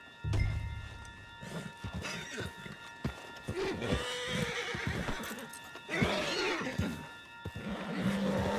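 A horse in Red Dead Redemption 2 neighs near the start, followed by irregular hoof clops and thuds over a steady game soundscape with a low background tone.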